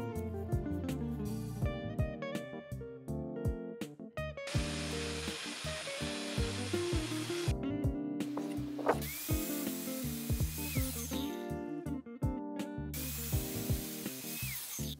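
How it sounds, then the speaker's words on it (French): A power tool cuts 4x5 wooden battens to length for an entryway build, with bursts of high whining cutting close by between short pauses and clunks of wood, over background music and no talking. "je dois donc couper 2 tasseaux en 4x5 de 32 cm et 2 autres de 45 cm"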